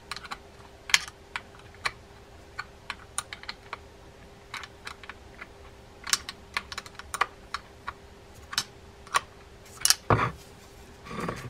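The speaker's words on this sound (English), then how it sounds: "I'm just finishing up the tightening with the wrench" A wrench tightens a part on a vintage Luxor Saumon saltwater fishing reel, giving sparse, sharp metallic clicks and ticks at irregular intervals, close and fairly quiet, over a faint steady hum.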